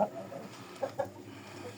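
Young cockerels for sale clucking, with two short soft clucks close by over a quiet, low background and no talk.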